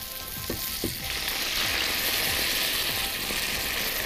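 Orange juice hits onions frying in a pan and sets off a loud, steady hiss of sizzling, with a few splashy pops at the start that settle into continuous frying.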